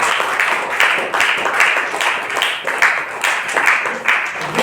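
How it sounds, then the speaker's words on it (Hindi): Loud, steady applause from a meeting audience in Harnaut, clapping for their guru, a dense wash of many hands with brief swells and no pauses. "जी के लिए जोरदार तालियां"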